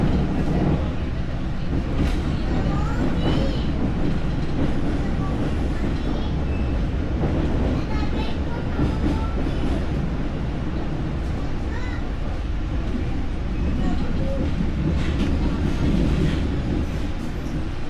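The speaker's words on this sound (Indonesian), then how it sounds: "kereta api Argo Semeru melintas langsung di stasiun Lempuyangan" The Argo Semeru express train rolls straight through Lempuyangan station without stopping, giving a loud, sustained rumble of wheels and carriages with clanks and squeals.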